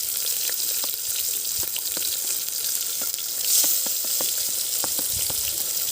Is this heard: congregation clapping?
no